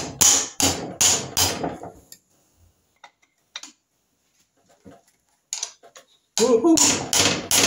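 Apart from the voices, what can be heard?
mallet hammering Norton Commando engine cylinder barrel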